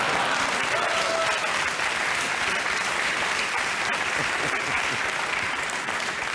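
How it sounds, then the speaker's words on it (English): Sustained audience applause fills a studio at a political comedy talk show, a dense, steady wash of clapping that holds at an even loudness throughout. "I'm really starting to appreciate the applause breaks."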